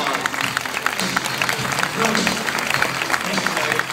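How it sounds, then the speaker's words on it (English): Large audience at a real estate success summit closing session applauds steadily, a thick wash of clapping with crowd murmur and a voice talking faintly underneath. "Give me a huge round of applause."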